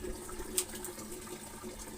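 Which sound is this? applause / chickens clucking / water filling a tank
water filling a tank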